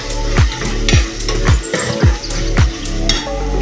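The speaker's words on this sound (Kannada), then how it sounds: "ಇದು ಫ್ರೈ ಆಗಲಿ." Garam masala and other ingredients sizzle and fry in a pan for egg biryani, a loud, close, steady crackle broken by repeated stirring strokes and scrapes of a utensil against the pan.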